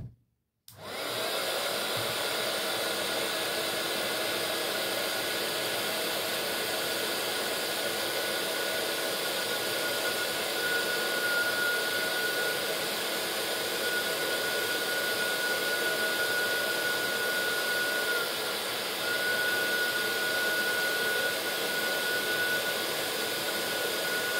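Heat tool blowing from underneath to melt embossing powder on cut paper, wood or chipboard: a loud, steady, close fan-and-heater whoosh that starts abruptly and runs unbroken for over twenty seconds, with no talk.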